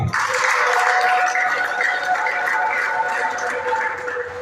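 A congregation at a worship service claps together in a sustained round of applause. It is mid-loud with a roomy sound and fades slightly toward the end, without clear speech over it.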